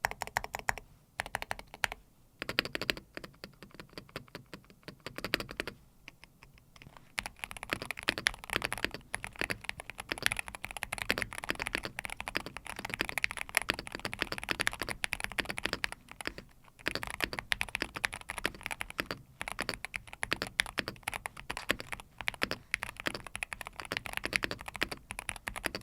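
Typing on a Keychron K2 HE special edition keyboard with an aluminum frame, set to a deep actuation point: a steady run of close, dense keystroke clacks continuing for about twenty-five seconds with brief pauses, no talking.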